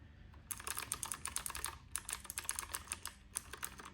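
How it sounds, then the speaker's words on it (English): Rapid clicky keystrokes on a mechanical keyboard, such as an RK100 or Keychron K4, steady and close, with a brief pause partway through; no voices. "a lot of people like this typewriter sound"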